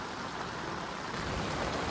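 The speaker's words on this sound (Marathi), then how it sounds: "आणि पाऊस सतत चालू आहे." Heavy monsoon rain during flooding, a continuous dense hiss of downpour on surfaces, steady and fairly loud for the whole moment, with no talking.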